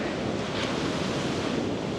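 Stormy autumn sea surf near Odesa crashes and roars steadily, a dense, loud wash of waves with wind buffeting the microphone and no voices.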